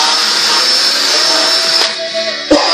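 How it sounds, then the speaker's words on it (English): A steady high-pitched motor whine runs continuously as a drill spins an engine valve for grinding, then shifts and cuts out with a brief knock near the end. "I just put it inside my drill, like it's a drill bit."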